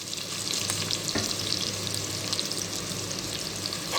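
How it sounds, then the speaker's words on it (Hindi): Onions frying with mustard seeds in a pan, a dense, loud sizzle and crackle with a few spatula taps, steady and close, with no voices. "और इनको अच्छी तरीके से पकाएंगे जब तक प्याज नरम नहीं हो जाता।"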